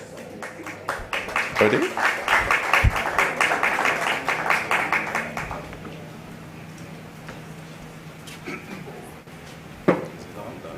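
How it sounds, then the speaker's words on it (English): An audience at an investment summit claps for a panel for about five seconds, then the applause fades and a few voices speak near the microphone. "please welcome them with a hearty round of applause"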